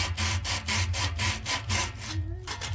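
Wood being sanded down on a small project, a rhythmic back-and-forth scraping with regular strokes about every quarter second, close and steady, with faint voices in the background.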